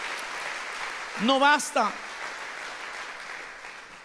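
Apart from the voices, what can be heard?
church congregation applause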